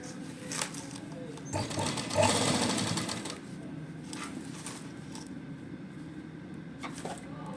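A sewing machine stitches piping onto a suit neckline in short and longer runs of rapid, steady whirring, with a voice talking over the machine.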